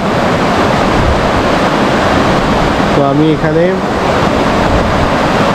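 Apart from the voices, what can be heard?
Bidyang river flowing with crickets chirping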